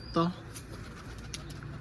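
A pigeon gives a single short coo near a rooftop pigeon loft, followed by a faint, low ambient background.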